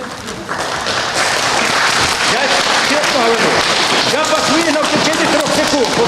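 Brief applause from a small crowd at a tense meeting in Chernihiv, mixed with shouting voices and overlapping speech throughout.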